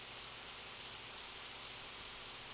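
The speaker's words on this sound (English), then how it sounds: "The only sounds I heard came from the falling rain striking the trees and the muddy ground." Steady rain patters down continuously, a broad even hiss without pauses, rain striking trees and muddy ground in Higurashi When They Cry.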